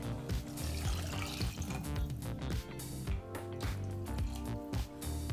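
About one and a half cups of water are poured into a tomato bath masala already mixed with curd, giving a steady splashing, gurgling pour up close.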